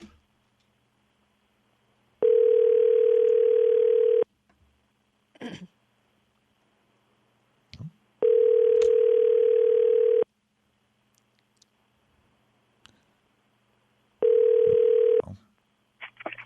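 A telephone call made on air during a Quebec radio show rings out in three long, steady two-second tones with pauses between them, interspersed with faint clicks and a brief throat clearing.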